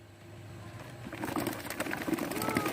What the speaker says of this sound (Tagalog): rumanda na yung ating mga ibon